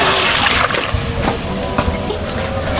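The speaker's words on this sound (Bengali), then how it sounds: "বন্ধুরা প্রথমে আমি কড়াইতে জল দিয়ে দেবো" Water poured into a wok gives a close, loud sloshing rush with splashes that settles into a softer trickle, with no talking.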